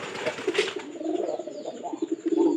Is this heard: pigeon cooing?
yes